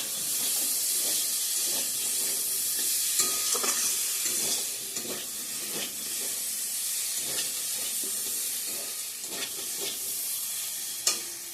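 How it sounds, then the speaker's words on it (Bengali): Soybean and potato curry cooks in a pan with a steady close sizzle and hiss. Occasional stirring clatters and scrapes cut through, and a sharper clink comes near the end. No one speaks. "সয়াবিন আলুর তরকারি রান্না করছি বন্ধুরা"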